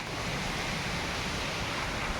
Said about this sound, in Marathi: हे घनदाट असं जंगल आहे आणि या जंगलात पाण्याचा आवाज तुम्हाला आता येत असेल